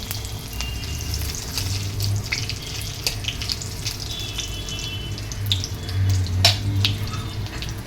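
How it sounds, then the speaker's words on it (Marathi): Whole spices and a bay leaf spluttering and sizzling in hot oil in a cooking pan, a steady close frying hiss with scattered pops and crackles throughout, no voices. "ते खडा मसाला उडतो"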